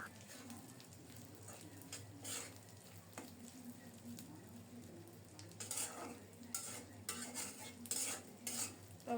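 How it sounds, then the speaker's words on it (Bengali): Dried fish (shutki) fries in a pan over low heat, giving a quiet, steady sizzle with frequent clinks and scrapes of a utensil against the metal. "শুটকিটাও ভাজা হয়ে আসছে, দেখেই বোঝা যাচ্ছে।"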